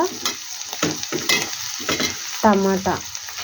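Eggplant fries in a pan with a soft, continuous sizzle, while a spoon stirs in short, uneven scraping strokes that repeat close at hand.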